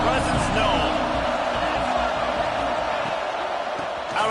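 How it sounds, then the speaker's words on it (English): A basketball game crowd cheers in an arena, a dense, loud roar of many voices sustained throughout, with scattered thumps and whoops inside it. "This crowd ready to make its presence known."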